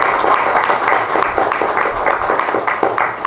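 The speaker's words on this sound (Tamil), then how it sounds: "ஒரு நிமிடம் நாம் இடைவிடாத ஒரு கைத்தட்ட கொடுக்கணும்" Sustained applause from an audience at a Shirdi Sai Baba temple event in Nanganallur, a dense steady patter of many hands clapping continuously at moderate loudness.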